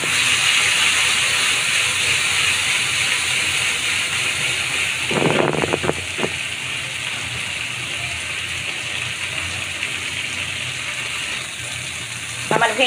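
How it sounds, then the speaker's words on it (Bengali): Okra sizzles in hot oil in a pan, cooked alongside chicken, giving a steady, dense hiss throughout with a brief burst of clattering stirring midway and again at the end. "এখন আমি ভেন্ডিগুলো একটু ভেজে নেব।"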